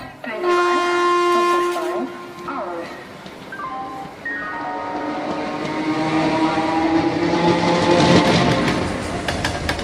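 A train sound effect for a Bengali audio story: a sustained, tonal horn-like blast opens, then a steady rolling rumble of a train builds and carries through to the end, loud and close.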